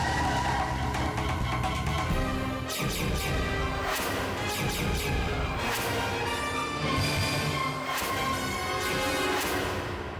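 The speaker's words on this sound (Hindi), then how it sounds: "ड्राइवर, गाड़ी रोको।" A car braking hard to a stop in a TV drama scene, dense loud screeching and crashing noise with dramatic music throughout.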